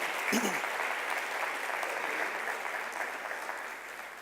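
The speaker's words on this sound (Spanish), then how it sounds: "recibimos con un aplauso a Mariano" Applause at an education and economic development congress as a speaker is welcomed on stage, a steady wash of many hands clapping from the start that slowly thins toward the end.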